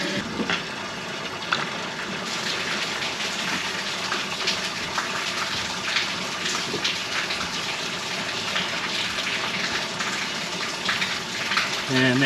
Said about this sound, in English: The Auto Bilge is working.